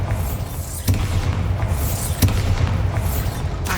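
Deep booming blasts of the Bombarda explosion spell in Hogwarts Legacy, two heavy low impacts about a second apart over a loud rumbling game soundscape.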